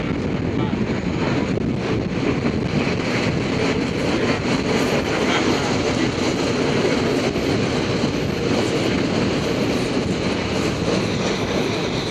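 A passenger train rolls along the rails toward Saraburi, Thailand, making a steady, loud rumble and clatter heard from inside the carriage, with constant wind noise buffeting the microphone.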